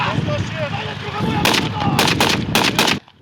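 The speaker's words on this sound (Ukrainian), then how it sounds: "Вибухи, постріли та важка військова техніка." Loud bursts of gunfire crack out in a rapid cluster over a constant rumbling roar at a military training ground with explosions and heavy military vehicles, then cut off abruptly.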